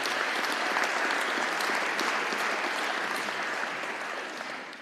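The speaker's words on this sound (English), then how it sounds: "Let's give Will Gibson a big round of applause." Steady, full round of applause from an audience at a Highland Park high school National Signing Day event honoring a football player, continuous and even throughout, slightly fading at the end.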